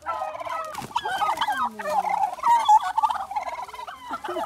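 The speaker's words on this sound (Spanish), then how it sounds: "Y una pandilla de guajolotes" A flock of turkeys gobbles near a weavers' sanctuary, with repeated rapid, warbling bursts from several birds overlapping up close and loud, with no talk.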